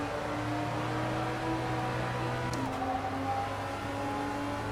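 A BMW 235i engine in the Assetto Corsa racing game drones at a steady, sustained pitch, shifting down once partway through, with a constant hum of road and wind noise behind it.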